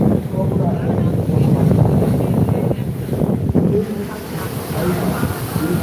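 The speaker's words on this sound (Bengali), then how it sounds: "উত্তাল সমুদ্র সরাসরি লাইভ" Rough sea waves at Digha churn and wash continuously, mixed with strong wind buffeting the microphone; no clear speech stands out.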